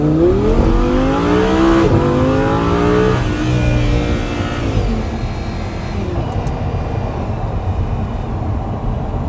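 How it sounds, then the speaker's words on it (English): A 2014 Audi R8 Spyder accelerates hard, its engine roaring loud and close as the pitch climbs through the gears with quick shift breaks, then fading into road and wind rush. "Yeah, so obviously brutal acceleration."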